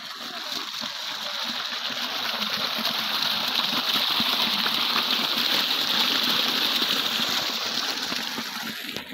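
Steady gushing water flows and splashes onto plants and grassy ground in a field, a continuous loud rush that swells slightly midway, with no talking.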